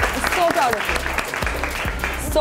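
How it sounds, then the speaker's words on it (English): An audience applauds during a Miss India beauty pageant episode, with clapping running under a speaking voice and a few scattered whoops and cheers across a couple of seconds. "Give a huge round of applause to those guys."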